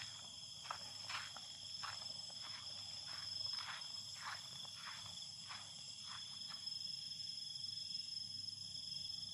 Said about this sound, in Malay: Kita boleh dengar cengkerik je bunyi cengkerik sini.